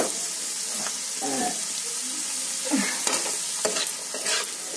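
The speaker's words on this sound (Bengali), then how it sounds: "ক্যাপসিকামটা দিয়ে অল্প সময় নাড়বো" Chopped capsicum is stirred in a frying pan with shrimp and chicken, a steady background sizzle broken by scraping strokes of the spatula, fairly soft and with no talking.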